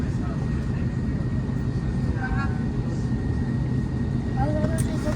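Steady broadband roar of an airliner cabin during a flight, a constant loud engine and air drone with faint intermittent chatter in the background.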